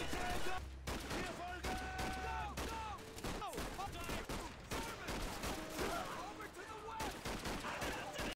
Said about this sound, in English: Taking fire, waking fire. I'm getting shot at.